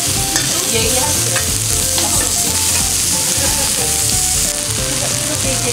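Beef offal with green onion sizzles loudly on a grill at a hormone barbecue restaurant, a dense, close, constant frying crackle that stays strong and even throughout without speech.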